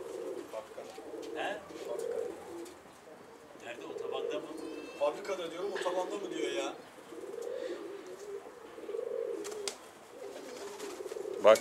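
A pigeon or dove coos repeatedly in soft, rhythmic phrases, fairly close, with people talking in between and over the calls.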